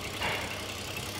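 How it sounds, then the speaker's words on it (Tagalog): A Toyota Avalon/Camry engine runs steadily after all six fuel injectors were replaced, a close, continuous idle hum with no voices. "So ito na yung unit natin, namandar na yung makina"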